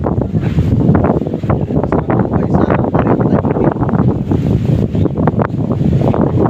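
Strong, gusty wind buffeting the microphone with a constant rumbling roar, loud and unbroken from start to finish.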